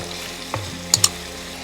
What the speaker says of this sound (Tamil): இப்போ நம்ம கட் பண்ணி வச்சிருக்கிற ரவுண்ட் ஸ்லைசஸ் தக்காளி எடுத்து இதில் ஆட் பண்ணிக்கலாம்.